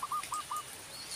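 Short repeated calls from a tame zebra dove kept alongside young peaceful doves, four clear coos spaced across about a second, close and alone with light background hiss.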